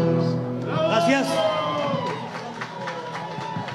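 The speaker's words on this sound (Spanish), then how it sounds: "Gracias por los aplausos" Audience at a National Guitar Day concert with a rondalla and guitar ensemble cheers, shouts and claps after a song, a loud crowd roar that fades into scattered claps and whoops.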